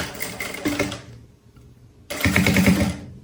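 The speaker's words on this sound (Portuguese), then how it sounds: "Agora, eu venho aqui na máquina, vou até tirar o alfinetinho, porque já segurou. E eu vou passar uma costura aqui" A sewing machine stitching a bag strap, two bursts of fast rapid-fire needle clatter, close and loud, separated by a roughly one-second pause before stitching resumes.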